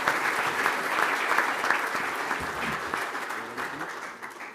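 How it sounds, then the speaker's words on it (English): Sustained audience applause after an energy policy debate in the 2021 Western Australian election, a steady dense wash of many hands clapping that holds strong and then tapers slightly at the end. "Please give them a round of applause."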